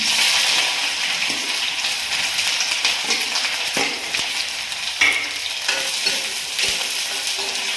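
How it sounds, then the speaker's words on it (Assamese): Onions frying in hot mustard oil in a wok, with a loud, steady sizzle and crackle and occasional scraping and clanking as they are stirred. "কেৰাহীত পিঁয়াজ দিম"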